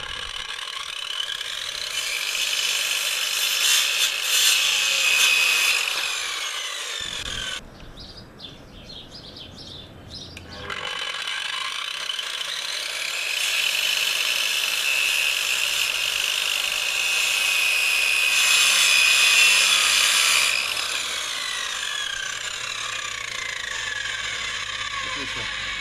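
An Interskol DP-210/190 EM electric circular saw whines loudly through long cuts in wood, pausing briefly before starting again, with a high mechanical rattle and faint chirps in the background.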